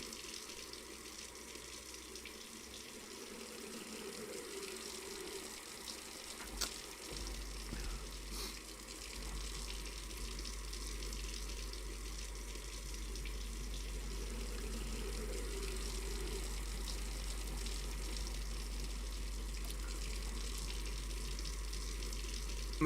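Beer being poured in a brewing simulation game, a soft steady trickle of liquid running quietly and continuously, faint and low throughout with no talk over it.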